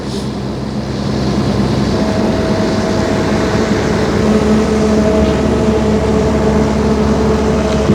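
An 800-ton mobile crane slowly slewing to the right while dismantling a city viaduct, giving a loud, steady, close engine drone with a low mechanical hum and a faint whine, unbroken throughout.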